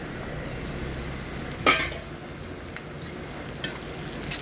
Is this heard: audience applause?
no